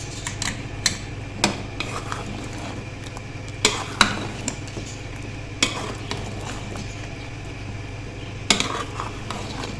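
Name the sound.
stirring chicken with red chili powder and turmeric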